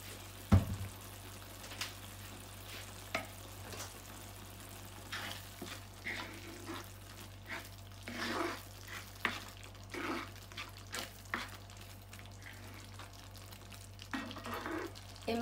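A pan of zaalouk, an eggplant dish, simmering quietly on the stove, a soft steady sizzle with occasional scraping stirs and clinks, faint and close with no talking.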